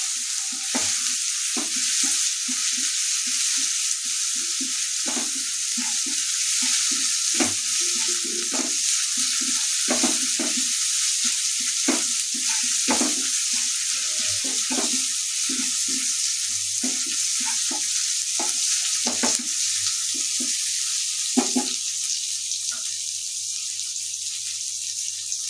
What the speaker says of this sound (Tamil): இஞ்சி பூண்டு பேஸ்ட்டு கொஞ்சம் சேர்த்துட்டு இது கூடவே தக்காளி சேர்த்துக்கோங்க. நல்லா வதங்கணும் ஃப்ரெண்ட்ஸ்.